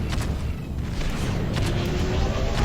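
Rapid gunfire from space-station guns in the space-combat game Freelancer, a steady rumbling barrage of booms and blasts that fills the whole stretch with no pause.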